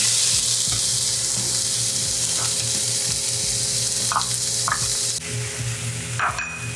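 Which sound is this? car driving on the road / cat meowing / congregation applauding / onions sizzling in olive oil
onions sizzling in olive oil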